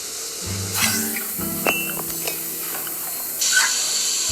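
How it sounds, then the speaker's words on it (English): Steam hisses and sprays from leaking pipes in the video game Assemble with Care, with broad bursts near the start and again toward the end, layered over tonal game music and small clanking sounds. "How can there be so much steam?"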